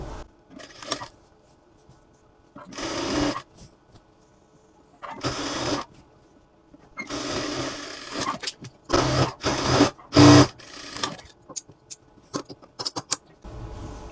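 A sewing machine stitches the side seam of a kameez in several short bursts separated by pauses, each run a close, steady mechanical whirr with clicks in between.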